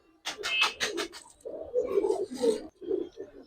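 Giribaz pigeons in a home loft coo in a series of soft, throaty rolling calls, several in quick succession at close range with no talking.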